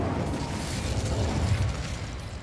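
The Incendio fire spell cast in Hogwarts Legacy, a loud sustained roaring burst of flame with a dense rumbling low end that holds steady throughout.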